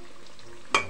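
Cauliflower pakoras frying in oil, a soft, steady sizzle with one brief, sharper clatter near the end.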